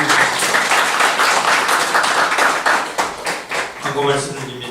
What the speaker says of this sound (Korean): 한 번 더 박수하겠습니다.